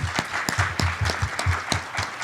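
A conference audience at an energy summit panel on advanced manufacturing claps, a sparse, fairly close round of distinct individual claps in an uneven rhythm over low room noise.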